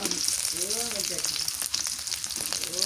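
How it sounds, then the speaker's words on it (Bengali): Raw onions fry in oil on a clay stove, giving a steady, close sizzling hiss throughout, with a faint voice-like sound briefly rising beneath it near the start. "পেঁয়াজ দিয়ে দিলাম কাঁচা"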